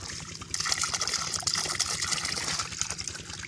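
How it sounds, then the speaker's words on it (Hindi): Water gushes strongly from an outlet on a farm used to irrigate malta and sweet lime orchard trees. The broad, steady rush swells after a brief softer start and runs continuously throughout. "हुण इत्थों पानी निकलता पे काफ़ी ज़्यादा।"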